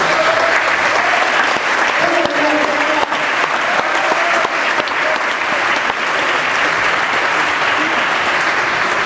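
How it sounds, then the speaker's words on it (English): A crowd at a Boston Tea Party rally breaks into loud, sustained applause, thick continuous clapping with some cheering voices mixed in, holding at full strength throughout. "We should give her a big applause."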